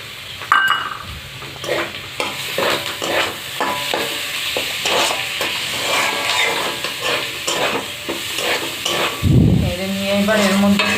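Chicken mince fries with slit green chillies in a pan for chicken pasta, a close, steady sizzle broken by rhythmic scraping and stirring strokes and a few pan knocks.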